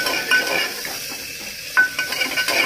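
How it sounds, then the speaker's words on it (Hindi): Spices tempering in hot oil for spicy pea chole, a steady soft sizzle with light stirring and occasional metal clinks of a utensil against the pan, close and continuous with no talk. "फटाफट से पहले छौका लगा देना"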